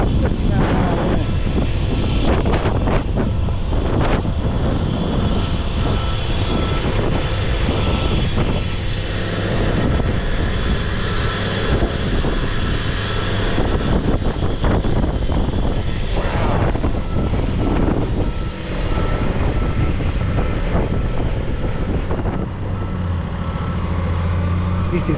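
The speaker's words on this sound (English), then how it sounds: "That's hurricane force winds right there." Hurricane-force wind gusting at 59 mph batters the microphone with a loud, continuous roar and rumble that lasts the whole time, heavy and close, with a voice speaking underneath.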